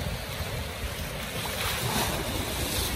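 A tidal bore (bono) surges up a river as a steady, full roar of rushing water and crashing waves, with wind buffeting the microphone and no voices over it.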